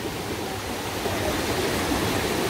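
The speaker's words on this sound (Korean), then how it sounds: "여기는 폭포가 있는 것 같아요." A waterfall in the narrow Jijangsan mountain valley gives off a steady, even rush of falling water, a broad constant wash with no breaks and no voices.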